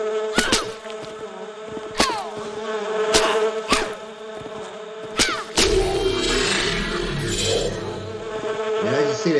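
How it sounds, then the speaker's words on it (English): A swarm of bees in the Fallen Earth game gives off a steady insect drone. Several sharp clicks break in over the first half, then a fuller buzzing takes over and carries on to the end. "let's see what happens when I ride for swarm bees"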